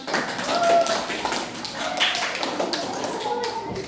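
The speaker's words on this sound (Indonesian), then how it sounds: "Tepuk tangan." A classroom of children clap their hands together at a teacher's call, a scattered patter of claps over a busy background of young voices chattering.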